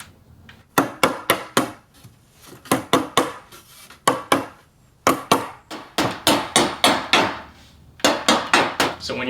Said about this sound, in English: That's where it's really helpful to use the mallet to kind of knock